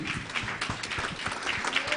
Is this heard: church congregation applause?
yes